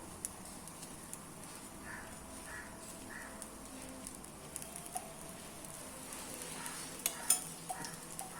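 Tapioca adai batter frying in oil on a pan over a medium flame, a faint steady sizzle with soft crackles and occasional light taps near the end, quiet and close.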